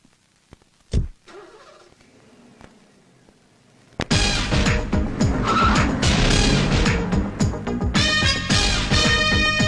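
A car from a Telugu film scene peels away with tires squealing: a brief thud and quiet idle, then a sudden loud surge of engine roar and screeching rubber that holds steady to the end.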